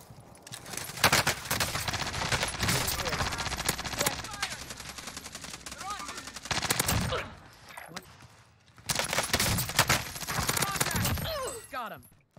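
Rapid bursts of PPSh-41 submachine gun fire in Warzone, loud and close, come in repeated long volleys with short pauses between them, mixed with other game sounds and brief talk.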